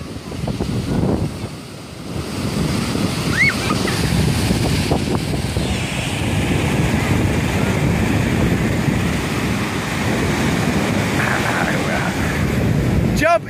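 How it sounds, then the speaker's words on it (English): Gusty wind buffets the microphone over a steady roar of ocean surf, with faint voices now and then. "It's a windy, windy day. Let's go down to the beach and play."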